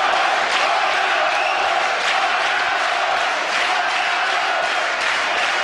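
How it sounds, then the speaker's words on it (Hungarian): A basketball arena crowd at a Szolnoki Olaj KK versus Besiktas JK game cheers in a loud, steady roar that stays dense and unbroken throughout. "És nagyon jó a közönség"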